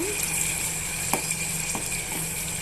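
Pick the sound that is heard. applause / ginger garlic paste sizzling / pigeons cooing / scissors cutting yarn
ginger garlic paste sizzling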